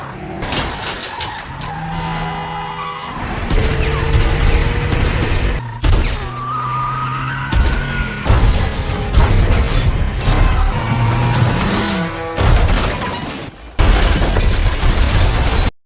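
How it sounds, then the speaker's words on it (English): A car is rammed during a high-speed chase and flies off an overpass, heard as loud, close engine roar, skids, metallic crashes and impacts piling up over a dramatic movie score. "He rammed their car until it flew off an overpass."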